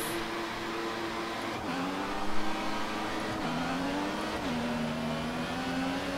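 Formula 1 cars in F1 2014 launch off the start line, their high engine whine climbing and dropping through quick gear shifts, steady and moderately loud with no voices.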